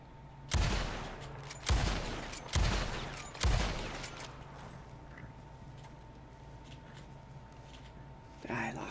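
Four loud, evenly spaced reports from an Evans repeater rifle in Red Dead Online, each with a long rumbling decay, then a quieter stretch of ambient game noise and a faint thud at the end.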